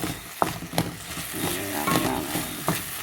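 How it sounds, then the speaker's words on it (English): An egg is scrambled and stirred in a pan for nasi goreng, with soft sizzling and a few light scraping and tapping strokes of a utensil, close and moderate in level. "Scramble this egg and get that egg stirred in there now."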